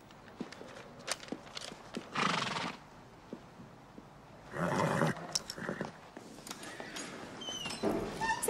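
A horse, a breeding stallion just arrived after travel, neighs in loud whinnying bursts, with scattered hoof clops and stable noise between them.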